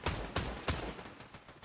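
Fortnite SMG firing in short bursts, a few loud close shots spaced apart in quick succession, then a brief trailing burst near the end, with no talking.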